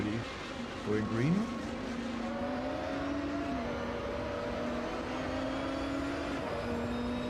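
A race car engine in the Automobilista 2 sim revs at a moderate pitch, near 7,000 RPM. It climbs briefly, then settles into a steady, sustained drone with small shifts in pitch as the car drives on.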